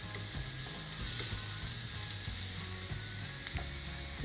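Chopped methi leaves frying in a pan with a continuous, quiet sizzle and hiss, with light irregular ticking and scraping from stirring underneath.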